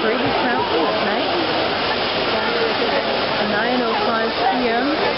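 Water from the Trevi Fountain in Rome splashes and rushes at night, a steady loud wash with crowd voices talking underneath throughout.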